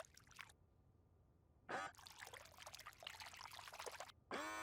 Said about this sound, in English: Cover the pear in the syrup.